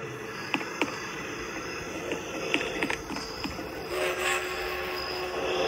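Steady rumbling train noise in a video game, with faint clicks and brief tonal swells, a continuous mechanical background with no talking.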